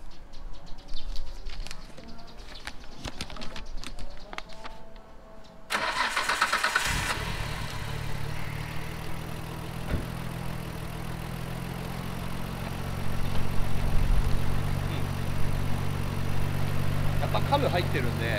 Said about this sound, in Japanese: じゃあエンジンかけますよ。 お願いします。 はい、so let's check the engine sound.